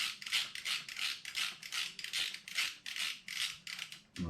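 A ratchet clicks in quick, even bursts as bolts are snugged on Touratech valve cover protectors on a 2022 BMW R1250GS, close up and steady with about ten pulls and no talking.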